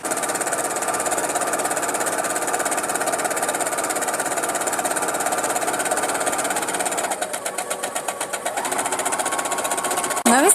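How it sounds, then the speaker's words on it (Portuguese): A sewing machine stitches a seam along fabric using the presser foot width as the allowance, a steady fast mechanical whirr close up that briefly pulses slower near the end before resuming. "aí costura com a medida de um pé de máquina"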